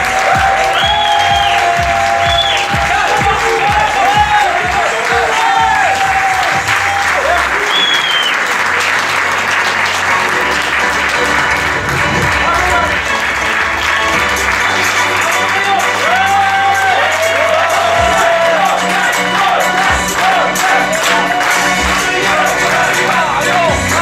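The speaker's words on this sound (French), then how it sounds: "On va simplement applaudir le casino et l'ensemble du personnel qui nous accueille ce soir." An audience at a casino's twentieth-anniversary evening applauds steadily for a long stretch, with scattered cheers, whoops and shouts over dense, close clapping.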